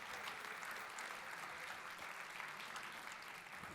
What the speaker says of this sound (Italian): Continuiamo l'applauso durante la foto, che è più entusiasmante, no?